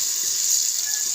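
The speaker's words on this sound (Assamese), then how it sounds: "কাজু পেস্তা এইখিনি অকণমান ৰঙা হ'লে ভাজি ল'ম" Cashews and pistachios frying in oil in a pan produce a steady, bright, close-up sizzle that holds evenly without a break.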